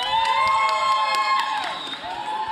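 Trackside crowd at the F1 in Schools World Finals cheering and whooping for Team Australia, a dense, sustained roar of many voices with children's shouts, loud throughout.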